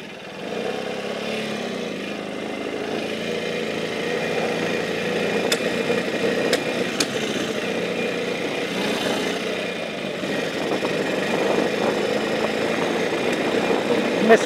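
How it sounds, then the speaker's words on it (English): A 1965 Norton 650SS motorcycle, off the road for 35 years, idles slowly and steadily at moderate volume with occasional sharp ticks, a faint background hum and no talk. "First thing I notice is it's got a nice smooth engine."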